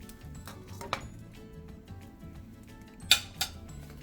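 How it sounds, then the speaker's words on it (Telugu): A lid is set onto a pan while masala bun dosa cooks, giving a light clink, then two sharper metallic clatters close together a couple of seconds later, close by over quiet kitchen background. "మళ్ళీ మూత పెట్టాలి."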